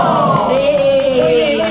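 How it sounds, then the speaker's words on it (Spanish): A guided theatrical tour group on an old-bridge walk in Mojados calls out a drawn-out collective "wow" together, a loud rising-and-falling chorus of voices up close. "Cuando yo haga así, todo el mundo dice ¡Wow!"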